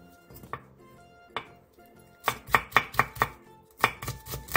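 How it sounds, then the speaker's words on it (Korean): A knife chops Cheongyang chili peppers on a cutting board, a few sparse single knocks at first, then a quick, regular run of sharp close chopping strokes, with no voices. "청양고추 4개를 길게 십자 모양으로 칼집을 낸 뒤 쫑쫑 썰어주세요."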